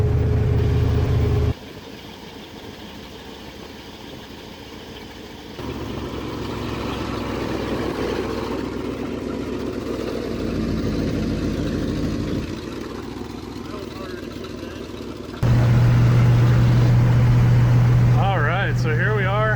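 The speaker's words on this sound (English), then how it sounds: "So here we are, cruising down the road." A 1976 Ford F-250 pickup with a 390 FE V8 and four-speed cruises down the road, a steady mid-pitched engine drone inside the cab shifting level as gears change, with voices talking over it.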